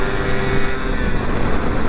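A Yamaha RX King two-stroke motorcycle engine revs close by on a busy road, a loud, continuous rasping engine drone that fills the whole moment without pause.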